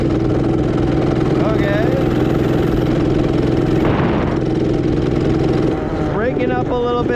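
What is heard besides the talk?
Axis M200 minibike with 212cc engine running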